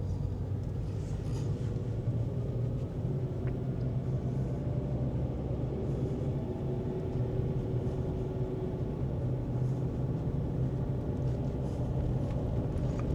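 An old four-wheel drive rumbles along mountain dirt tracks near Paphos, with a steady low engine drone and road noise heard from inside the vehicle throughout.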